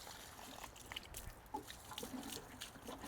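Garden plants and seedlings among stones are watered, a soft continuous trickle and splash of water with faint scattered drips, low and steady throughout, with no voices.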